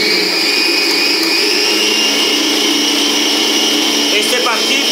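A kitchen mixer whirs steadily at full speed, beating cake cream for a children's Minions birthday cake, a loud continuous motor whine with a high tonal hum, close by and unbroken, with a brief rattle near the end.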